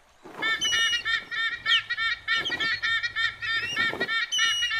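Loud, repeated honking calls from a large cartoon bird, harsh goose-like cries coming in quick uneven bursts one after another, close and alone with no talking.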